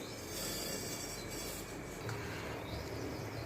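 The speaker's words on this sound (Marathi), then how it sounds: "आता आपण हा तांदूळ याचा टाकू" Uncooked rice pours into a cooking pot for Maharashtrian masale bhat, making a soft, steady granular hiss and rustle with no pauses and no voices.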